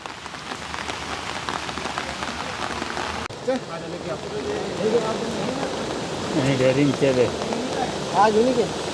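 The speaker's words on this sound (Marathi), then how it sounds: "मातशें देंवलां उदीक पावस चालू आहा" Steady rain pours onto a flooded road at Nanoda in North Goa, where a Kadamba bus is stranded, a dense continuous hiss of drops on water and pavement, with people talking faintly beneath it in the second half.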